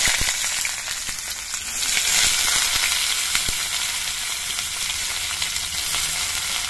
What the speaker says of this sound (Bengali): এবার পেঁয়াজগুলো আমি একটু ভেজে নেব